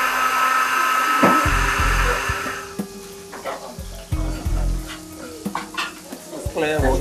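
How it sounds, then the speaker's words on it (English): Food sizzling loudly in a frying pan while being basted, a steady hiss broken by repeated spoon scrapes and knocks against the pan that grow more irregular, heard up close. "the whole time he's been basting it"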